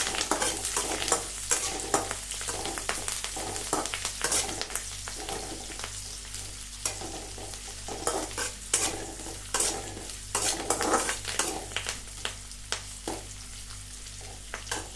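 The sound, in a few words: onion being stirred and fried in a pan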